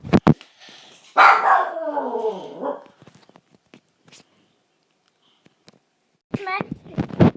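A pet dog barks several times at home: sharp barks at the start, then a longer whining yelp sequence, and more barking near the end. Between the barks there are quiet gaps and faint sounds.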